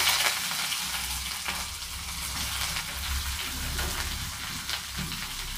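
Chopped onion and green chili frying in oil with dry red chili and nigella seeds, giving a dense, steady, close sizzle like rain that continues unbroken, with faint low rumble beneath.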